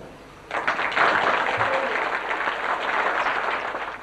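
An audience applauds at a school twinning event about Don Milani, a sudden burst of many hands clapping that rises quickly and holds steady and full, with no voices over it.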